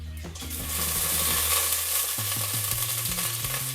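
Whole cloves, cardamom, peppercorns and cumin sauté in hot oil in a home kitchen pan, a bright continuous sizzle rising as a spoon stirs and scrapes through them in short close strokes, with a faint musical drone beneath.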